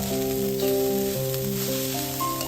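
Fried rice with coffee and braised chicken sizzles in a pan over medium heat, a steady close crackle with some tonal hum behind it.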